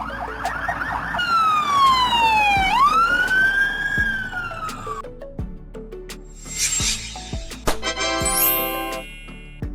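An ambulance siren in Slovenia wails through a rising and falling sweep, then shifts into quicker alternating tones, loud and close, with a second pulsing siren joining near the end.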